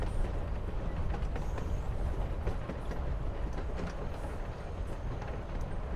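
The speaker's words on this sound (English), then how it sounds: "Guess we're not the first ones to hop on this train." A freight train rolls along in Life is Strange: Before the Storm, a loud, continuous rumble with rhythmic clickety-clack of wheels over rail joints, heard from close by with no talking.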